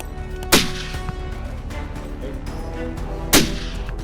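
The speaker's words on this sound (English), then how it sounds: "Guns are now the main line of defense" Two loud, sharp gunshots fired at vultures by Alaskan cattle ranchers ring out outdoors about three seconds apart, each with a short echoing tail over steady background rumble.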